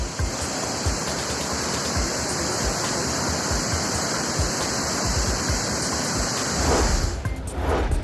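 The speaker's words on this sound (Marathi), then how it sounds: "भंडारदरा धरण ओव्हरफ्लो झालेलं आहे धरणात पस्तीसशे क्युसेकनं पाण्याचा विसर्ग सुरू आहे" Water pours over the Bhandardara dam during a discharge of thirty-five hundred cusecs, a loud, steady, continuous roar of rushing water that swells slightly near the end.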